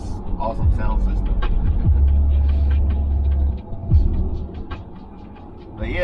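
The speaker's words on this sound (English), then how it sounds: "A little bit of tire noise" Low, steady tire rumble and road hum fill the cabin of a moving 2022 Audi Q5, a droning throb beneath a person talking over it.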